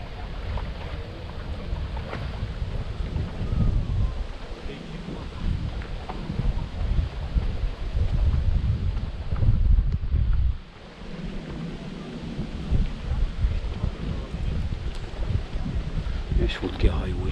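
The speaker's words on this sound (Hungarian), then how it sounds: "És fodrozódik a Balcsi, mert nagyon rájött a szél." Strong wind on the Lake Balaton shore roars against the microphone while the water ripples, a continuous loud low rumble that briefly drops near the end before gusting again.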